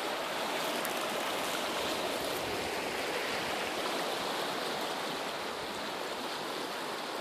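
A New Mexico river rushes past big rocks, a steady, loud, broadband wash of flowing water with no pauses and no voices.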